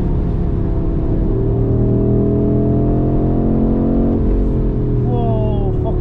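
A brand-new Audi RS3 8Y accelerates on the road from inside the cabin, its engine a loud, continuous drone rising in pitch over heavy road and tyre rumble.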